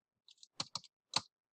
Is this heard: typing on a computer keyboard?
yes